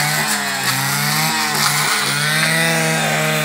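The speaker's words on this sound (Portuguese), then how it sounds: "com a máquina, com a roçadeira, o serviço é mais rápido." A brush cutter clearing undergrowth in a cacao plantation whines loud and close, its engine pitch dipping and rising as the blade bites into growth.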